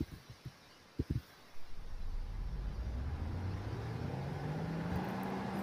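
An electric truck in the Greenville driving game accelerates from 0 to 60, a steadily rising electric whine climbing in pitch over a few seconds after some brief clicks, heard alone.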